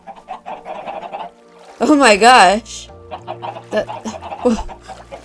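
Chickens cluck in the Minecraft video game, with a loud, warbling honk-like squawk standing out in the middle, while someone talks over the clucking before and after it.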